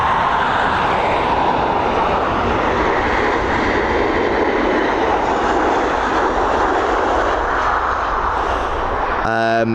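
A Malta Air Boeing 737 arriving at Dublin Airport roars past in a loud, sustained broadband jet rumble, steady and close throughout.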